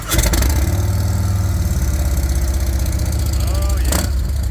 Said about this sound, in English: It's all about the exhaust note.